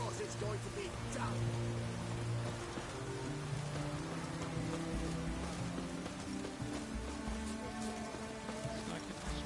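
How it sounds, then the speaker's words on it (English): Rain falling in the video game Witcher 3, a steady dense patter over a low background hum, continuous and even throughout with a voice speaking faintly over it. "It's raining, of course it's going to be damp."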